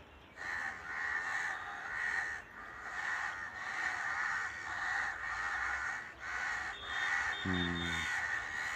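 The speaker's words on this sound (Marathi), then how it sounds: "जसं माणसं बोलतात तसं कावळे एकमेकांना सुद्धा बोलतात" A group of crows trade loud, rhythmic caws throughout, one after another, with a brief low tonal sound near the end.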